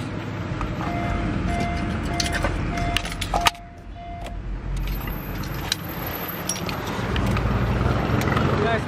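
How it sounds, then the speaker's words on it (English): Roadside traffic in Sri Lanka beside a parked 2018 Honda CR-V, a continuous outdoor wash of passing vehicles with a brief horn-like tone and faint clicks, steady and moderately loud throughout. "I apologize about the roadside noise."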